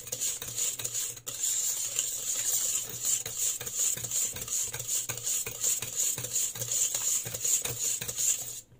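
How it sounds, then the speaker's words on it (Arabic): A utensil folds birthday cake batter from top to bottom in a bowl, making steady, rhythmic scraping and stirring strokes close by with no talking. "نخلط من الفوق للتحت."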